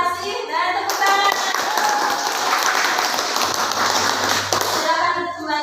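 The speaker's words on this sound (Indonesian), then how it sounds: "Terima kasih dan tepuk tangan" A classroom of pupils claps during a teacher's lesson. The dense, steady applause swells for several seconds, with children's voices heard briefly before and after it.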